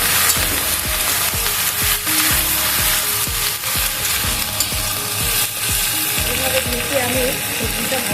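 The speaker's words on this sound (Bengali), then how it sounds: "নাড়াচাড়া করে আমি ভালো করে ভেজে নিয়েছি।" Small fish for a Bengali curry frying and being stirred in a pan, with a loud continuous sizzle and rhythmic scraping strokes of a spoon against the pan, repeating steadily throughout.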